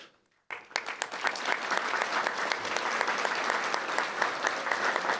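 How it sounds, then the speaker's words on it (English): Sustained applause from a conference audience honoring a planning team, starting abruptly after a moment of silence and holding as a dense, steady patter of clapping that fills the room. "please stand up and let's give them a round of applause."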